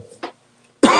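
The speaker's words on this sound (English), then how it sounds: "You may hear me coughing" A single short burst of coughing in a quiet, dark room, followed a moment later by a louder, harsher cough or throat-clearing close to the microphone.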